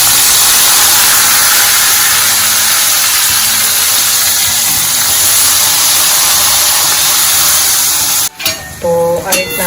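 Vaseti greens (bhaji) dropped into a hot pan with oil and asafoetida, a loud steady sizzle hissing throughout before a brief clatter of stirring near the end.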